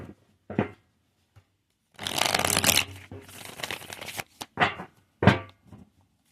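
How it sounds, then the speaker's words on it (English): A deck of tarot cards being shuffled up close: a long, dense riffle followed by several shorter slaps and flicks, loud and alone with no talking. "Let me give them some shuffling here."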